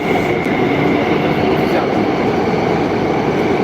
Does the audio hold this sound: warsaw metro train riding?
yes